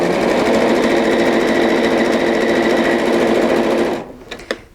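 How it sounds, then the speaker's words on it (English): A sewing machine runs steadily, stitching a quarter-inch seam on joined fabric pieces. The motor hums loud and close at constant speed for about four seconds, then stops, leaving a few faint clicks. "you're just going to come over here to the sewing machine, set your seam, and roll that back"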